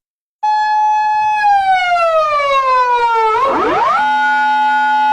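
Japanese police car siren, a loud close wailing tone that slowly glides downward, then breaks into a rapid warbling sweep before settling onto a steady two-tone pitch, with nothing else heard.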